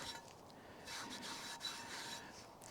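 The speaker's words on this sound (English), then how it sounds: "now I'm going to take my bandana and just rub that oil all over the interior surface" A cloth bandana rubs oil over the inside surface of a pan, giving a faint, close, continuous rasping scrub in short strokes.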